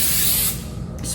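Hairspray hisses from an aerosol can in one loud, steady burst that cuts off, followed by a brief second puff.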